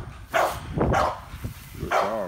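XL pitbulls bark at a kennel, three loud close barks in quick succession with a whiny tail on the last.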